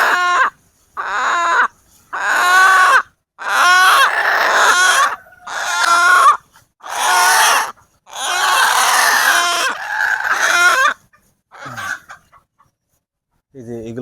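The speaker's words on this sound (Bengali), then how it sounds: "আমাদের প্রাপ্তবয়স্ক সব ফার্মি মুরগি আমরা নিয়ে যাচ্ছি।" Adult broiler chickens squawk and cluck in loud, agitated bursts while being carried to a new house, near the microphone with short pauses between calls.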